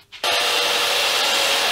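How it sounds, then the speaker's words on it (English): A handmade telephone microphone is sanded with a power tool. A brief soft thump comes first, then a loud, steady, high rasping whine runs unbroken to the end, close and with no speech. "ear protection on and sanding"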